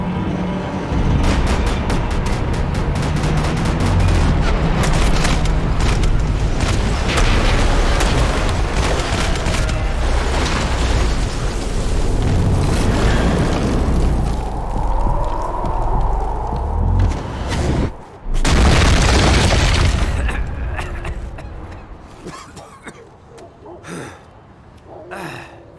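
Gunfire and explosions in the video game Max Payne 3, a loud continuous barrage of shots and booming blasts with gasping and shouted voices over it, briefly cutting out before a final burst and fading.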